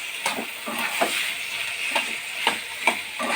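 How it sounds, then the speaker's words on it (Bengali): Chicken pieces are stirred and turned in a pan over a high gas flame for garlic chicken, a run of spaced scraping strokes over a soft steady sizzle. "চিকেনগুলো এপিট ওপিট করে একটু নেড়ে নেব।"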